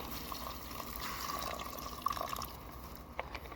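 Water poured from a container into holes in a pot of pilaf cooking outdoors on a small wood-burning stove, a soft continuous trickle and splash with a few drips, heard close amid faint open-air background.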